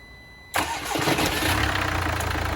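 A crash-damaged Mercedes GLA 200d AMG Line diesel engine cranks briefly, then catches and settles into a steady, loud idle close by.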